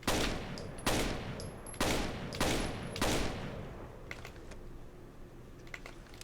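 Gunfire erupts in the video game Rainbow Six Vegas 2 during a T-hunt on high density. Several sharp, loud bursts come in quick succession at first, then fade into fainter, scattered clicks and distant shots.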